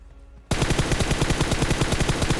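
Sudden sustained automatic rifle fire from another squad in a solo-versus-squad PUBG Mobile match, a loud rapid stream of evenly spaced shots bursting in after half a second of quiet background and continuing without pause.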